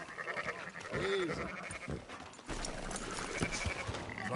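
Sheep in the open-world game Red Dead Redemption 2 bleat a few times at moderate distance, short wavering calls over faint outdoor ambience and a light clatter of movement.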